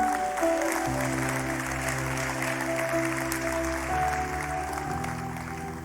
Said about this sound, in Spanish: Aplauso para el Rey